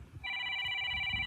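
A telephone ringing at a rooftop kite-flying match, a steady electronic ring starting after a brief pause and holding loud and close for about a second, with faint background noise underneath.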